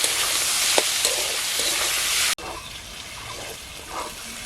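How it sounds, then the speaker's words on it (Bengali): Snake gourd pieces frying in hot oil with salt and turmeric give a steady close sizzle, with a brief stir and a clink before the hiss drops to a softer crackle. "একটু হলুদ দেবো, দিয়ে ভাজবো"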